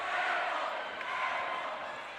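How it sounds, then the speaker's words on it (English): A North Summit crowd jeers a free-throw shooter at a girls' 2A basketball championship game, a steady roar of many voices filling an indoor gym, loud and sustained from start to end. "North Summit crowd kind of letting her hear it right there."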